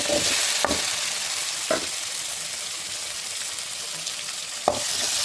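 Six or seven cut tomatoes frying in a pan for green chilli kurma give a soft, even sizzle. A few brief spoon knocks and stirring scrapes stand out at intervals.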